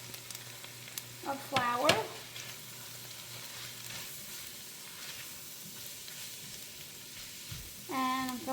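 A flour and ham chowder base sizzles and fries softly in the pot, a low steady hiss running under brief talk at the start and end.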